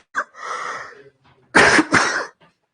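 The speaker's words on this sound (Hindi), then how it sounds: "खांसी भी हो रही है।" A person coughs, first a brief hack and a raspy throaty sound, then two harsh, forceful coughs in quick succession, close to the microphone.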